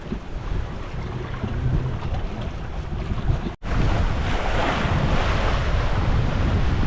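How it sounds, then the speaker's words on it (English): Steady wind roar and rushing waves surround a sailboat on the Great Barrier Reef, with the wind on the beam at about ten knots; the dense, continuous wash breaks off for an instant before resuming just as loud. "Wind is on the beam, probably about 10 knots, maybe slightly more."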